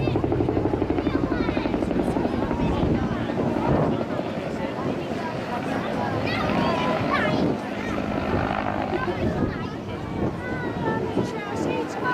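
A helicopter flies at the Blackpool airshow, its steady rotor drone and thump holding at close to mid distance, mixed with wind noise, while a commentator talks over it.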